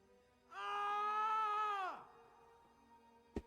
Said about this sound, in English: Would you guys like to hear a silly little scream I can play whenever I feel like?